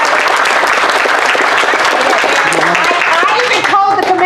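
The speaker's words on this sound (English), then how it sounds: "Can I get a round of applause for Michelle who designed" An audience claps for Michelle at a public meeting, a dense, loud and steady round of applause, with voices and a few cheers rising near the end.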